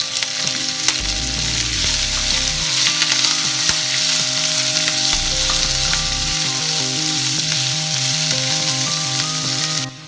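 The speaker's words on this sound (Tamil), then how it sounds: "அடுத்ததா பச்சை மிளகாய், வெங்காயம் இதையும் சேர்த்து நல்லா வதக்கிக்கலாம்" Green chillies and onions sautéing in a pan for mutton kola urundai, a loud, continuous sizzle close up with intermittent stirring and a low steady hum beneath.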